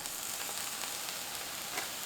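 Soy curls fry in about a tablespoon of vegetable broth in a pan over medium heat, giving a quiet, steady, even sizzle with no breaks.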